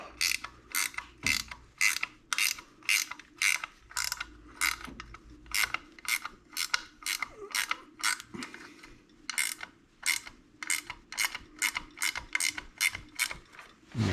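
A ratchet wrench tightens bolts on a Muncie or Saginaw three-speed floor shifter. Rapid, evenly spaced clicking bursts repeat steadily for the whole stretch, close-up and clear, with a few faint knocks between strokes and no voices.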